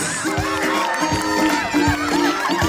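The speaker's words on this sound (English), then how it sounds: "I can see my parents cheering them!" Parents cheer at a children's preschool sports day, a lively crowd of voices and shouts filling the outdoor space, with overlapping chatter and excited calls throughout.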